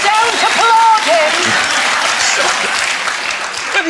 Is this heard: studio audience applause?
yes